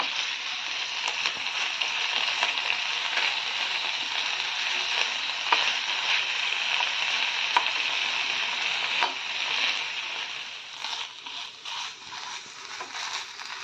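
Chopped banana stem fries and is stirred in a pan until dry, a continuous close hiss of sizzling with occasional scraping clicks of the spatula, easing slightly quieter near the end.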